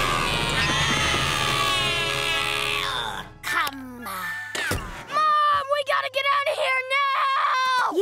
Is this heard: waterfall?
no